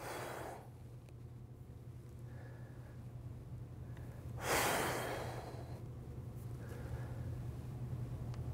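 A workout exhale, a single strong breathy puff of air near the microphone after a quieter breath at the start, over a faint steady hum with no talk.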